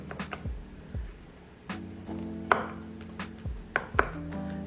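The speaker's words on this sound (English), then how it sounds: "I'm just gonna chop them into slices and then go in and cube these" A knife chops vegetables into slices and cubes on a cutting board for stuffing, giving crisp, close, fairly loud thunks in quick clusters separated by short pauses.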